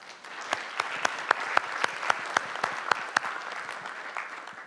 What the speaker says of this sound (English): Let's have a round of applause for the Midwest.